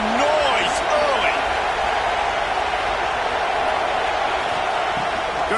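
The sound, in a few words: stadium crowd noise at Clemson vs TCU football game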